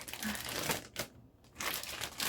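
Crinkling plastic zip bag rustles close up, a short pause of near silence, then more crinkling as the bag holding olive oil is handled and pressed shut.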